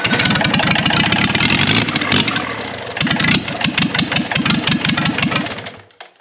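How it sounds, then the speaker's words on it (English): A Perkins 4107 marine diesel fitted in a Gehl 4610 skid steer cranks with a rapid, loud starter chug, briefly dips, then catches and runs in a rough, pulsing rhythm before cutting off at the end. "we're gonna crank it and see what happens"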